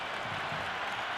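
A stadium crowd roaring after a six in Cricket 26 on PS5, during a Pakistan vs England T20 match: a steady, dense wash of cheering and applause, brief and continuous, with no voices standing out.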